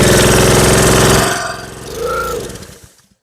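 A Honda GCV 190 engine on a Simpson pressure washer, after storage and with its choke rod misfitted, is pulled over: about a second of loud, harsh cranking clatter, then a brief rising-and-falling sputter that dies out.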